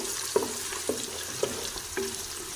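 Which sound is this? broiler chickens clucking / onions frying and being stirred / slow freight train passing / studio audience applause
onions frying and being stirred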